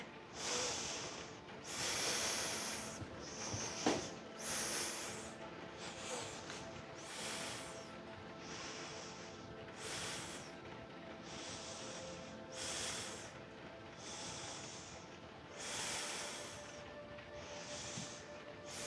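Heavy rhythmic breathing during a yoga split stretch, slow hissing inhales and exhales repeating roughly every two seconds, close and fairly quiet with no talk.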